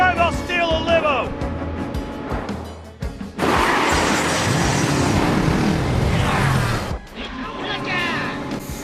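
Car driving in Resident Evil 6: engine roar and rushing road noise swell loudly in the middle, broken by sharp crash-like hits at the start and end, with people talking over parts of it.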